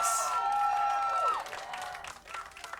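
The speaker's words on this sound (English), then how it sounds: "The crowd is hyped up, even though we're in the theater here." Excited crowd cheering and applauding in a theater during a League of Legends match between CLG and Cloud 9, a dense, loud roar of many voices that swells and then settles beneath ongoing commentary.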